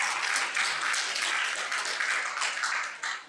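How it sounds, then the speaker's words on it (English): Conference audience applauds a thanked team member seated in the front row, a loud, close burst of many hands clapping that holds steady and tapers slightly at the end. "please round of applause to Mike."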